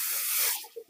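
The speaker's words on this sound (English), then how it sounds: "Tip a little water in it." Water poured into a hot pot of steaming vegetables and corned beef gives a loud, sharp hiss that holds for about half a second, then breaks into fainter bubbling sputters as it settles.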